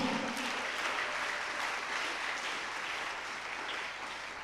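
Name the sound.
congregation applauding God at a church service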